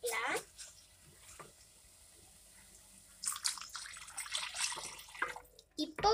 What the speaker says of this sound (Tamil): இப்போ நம்ம தண்ணி சேர்த்தாச்சு.